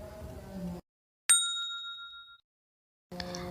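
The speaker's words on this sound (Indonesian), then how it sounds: "Kemudian ditambahkan dengan audio bunyi lonceng, di sini menggunakan lonceng 1" A single bright bell ding, the kind used for a subscribe button animation, rings out clean and alone, sustaining and fading over about a second between brief stretches of silence.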